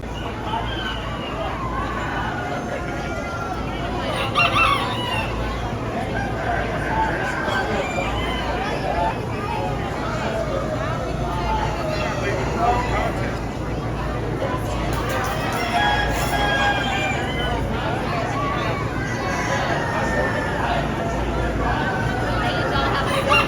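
Roosters crow in a crowing contest amid a noisy crowd, their calls rising above steady chatter and babble throughout.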